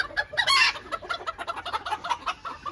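Several chickens cluck busily close by on a poultry farm, a steady stream of short, overlapping calls with one louder burst early on.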